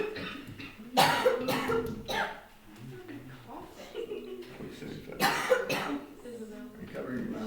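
Two sharp, harsh coughs from someone with whooping cough burst out a few seconds apart, close by, with voices talking quietly around them.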